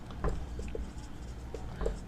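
Chalk or pen writing out an equation during a math lesson on solving paired equations, with faint scratchy strokes and a few soft taps at irregular intervals, quiet and close.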